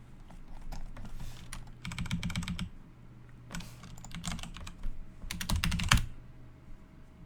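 Computer keyboard typing comes in uneven bursts of rapid clicks with brief pauses between them, fairly close and clear, over a low steady hum while someone works in a game development session, with no speech.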